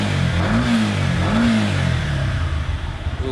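A 2019 Yamaha MT-15 motorcycle engine revs up toward 7,000 RPM, loud and close, with a rising and falling throaty growl in two swells and steady engine rumble throughout.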